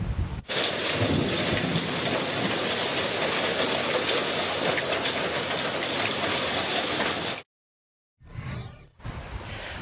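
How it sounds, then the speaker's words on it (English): A hailstorm pounds down at Manly West in Brisbane, a dense, loud, continuous roar of ice striking surfaces that runs steadily for several seconds, then cuts out abruptly and returns in a short burst. "take a listen to this hailstorm that landed in Manly West"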